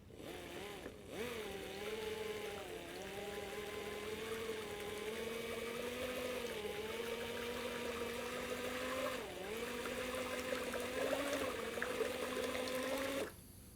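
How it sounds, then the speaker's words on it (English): Two-pack paint and catalyst being stirred in a bucket with a powered mixer: a steady droning motor whir at constant speed for about thirteen seconds, dipping briefly near the start and midway, then cutting off. "I tip this contents into a bucket and then mix it thoroughly with a little bit more speed"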